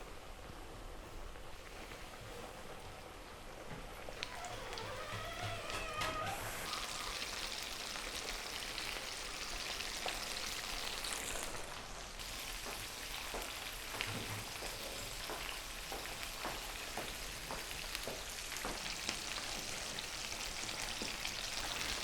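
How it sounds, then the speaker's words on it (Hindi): Coated chicken deep frying in hot oil gives a steady, dense sizzle and crackle that runs the whole time, with occasional louder pops and a brief stir partway through. "अब हम इसको डीप फ्राई करेंगे।"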